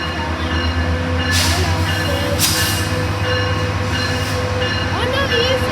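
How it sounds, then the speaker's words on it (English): A Metro line commuter train rolls past with a steady low rumble and rail hum, brief bursts of hiss and a faint squeal near the end, heard close by without talk. "Alright, there goes the Metro line."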